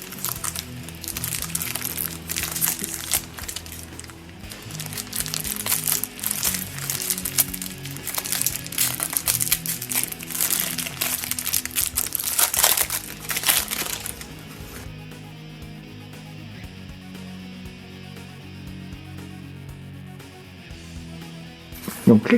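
Plastic wrap crinkles and crackles steadily as a pack of board game cards is unwrapped during an unboxing, then stops, leaving a quieter stretch.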